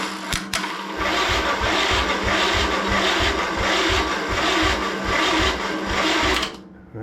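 A Simplicity Regent lawn tractor's small engine cranks steadily with a rhythmic chugging whir for several seconds without catching, loud and close, then stops abruptly.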